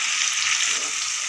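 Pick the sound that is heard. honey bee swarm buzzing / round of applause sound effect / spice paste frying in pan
spice paste frying in pan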